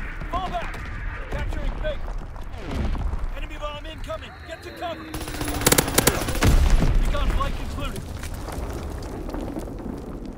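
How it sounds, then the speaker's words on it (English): Aircraft strafing run in Call of Duty, a burst of rapid gunfire and explosive rumble swelling loudly mid-clip amid ongoing battlefield noise and game chatter. "Pilot ready for strafing run."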